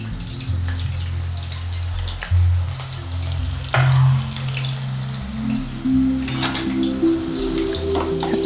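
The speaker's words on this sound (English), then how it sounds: "turn that heat low, and let's see if we can start these fries" Potato fries dropped into hot ghee in a pan on low heat, a steady close crackling sizzle with scattered pops and spatters, joined by a low background hum and occasional clatter.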